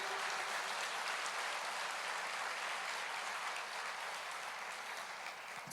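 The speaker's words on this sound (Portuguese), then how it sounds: "Você pode aplaudir o Senhor" A church congregation applauding, a steady, even wash of many hands clapping together, heard from some distance and fairly soft throughout.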